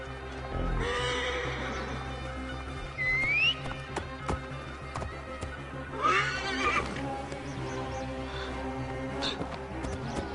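Horses whinny several times in short, high bursts over a background of soft hoof clops and ambient game sounds in Assassin's Creed IV.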